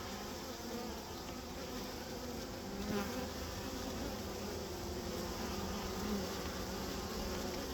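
A swarm of honeybees being rescued hums in a dense, continuous drone, individual bees buzzing past closer now and then, with no talking.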